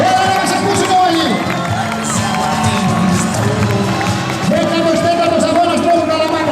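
A large crowd roars and cheers steadily at the start line of the 14th Kalamata road race, a loud, dense wall of voices and whoops with a talking voice mixed in over the noise.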